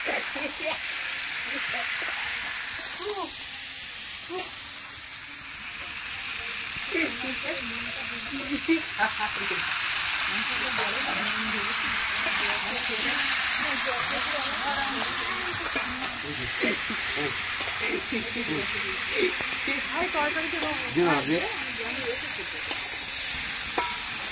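A steady, close sizzle of dried fish frying in a pan runs throughout, with occasional stirring clatter and faint voices talking now and then in the background.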